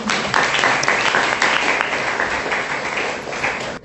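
An audience at a university faculty seminar gives a short burst of full, close applause lasting a few seconds before it trails off.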